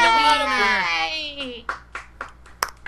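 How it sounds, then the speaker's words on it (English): A few sharp claps, roughly four spaced hand claps, follow a sung or cheering voice during a casual party card game among friends. "Clap, clap, clap. A nice little clap."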